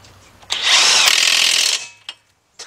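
A power tool tightens an axle nut on a 2007 Nissan Altima 2.5S during right axle shaft replacement, one loud close whirring burst of about a second, then a couple of short clicks.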